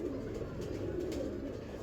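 Soft, low pigeon cooing repeats in a steady murmur against faint background noise.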